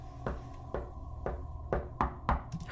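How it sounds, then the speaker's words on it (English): Knocking on a door in the game Portrait of a Ghost, six sharp raps at a steady pace of about two per second that grow a little louder toward the end, with no voices. "Gradually, the tapping softened and slowed."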